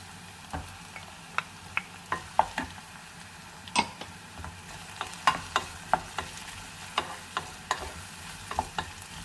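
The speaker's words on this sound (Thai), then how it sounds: "แล้วก็พัดไปจนมันฝรั่ง สุกนะจ๊ะ" Potatoes sizzle quietly in a pan while a utensil scrapes and taps against it in repeated, irregular strokes, with no talking.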